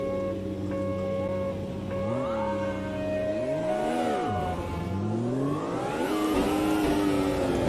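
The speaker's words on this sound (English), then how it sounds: "Just wheel spins!" Wheel spin from a 980-horsepower turbocharged race car in the Automobilista 2 racing game, the engine revving and swooping up and down in pitch through a continuous loud roar with repeated bursts of wailing acceleration.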